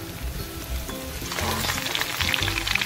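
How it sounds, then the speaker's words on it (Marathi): Cumin and ginger-garlic paste tempered in hot oil for a green-chickpea kofta curry, a steady close sizzle and crackle that swells louder partway through as the paste hits the oil. "आता आपण भाजी फोडणी देऊया"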